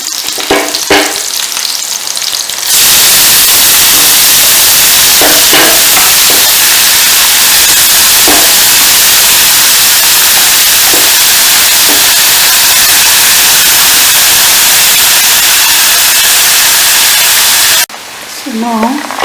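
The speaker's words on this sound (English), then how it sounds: "So now the green onions are in the kadai and fried a little bit." Chopped green onions fry in a kadai with a steady loud sizzle and hiss throughout, brief pauses at start and end where a voice briefly speaks.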